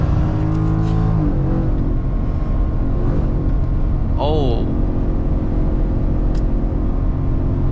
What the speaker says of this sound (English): This thing sounds insane for a pickup truck.